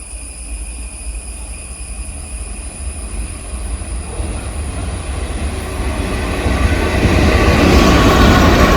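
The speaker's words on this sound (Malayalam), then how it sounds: "ഈറോഡ് WP4 ആയിട്ട് പോകുന്നത് ഏറനാട് എക്സ്പ്രസ് ആട്ടോ." The Ernad Express, a Nagercoil to Mangalore Central train hauled by an Erode-based WAP4 electric locomotive, passes on the busy Ernakulam–Thrissur route in Kerala. Its steady rumble and wheel noise build louder as it draws near, with no talking.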